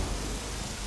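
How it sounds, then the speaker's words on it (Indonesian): Heavy rain falls in a steady, dense hiss, loud and close with a low rumble beneath it, lasting just a moment with no voices. "Lihat hujan ini."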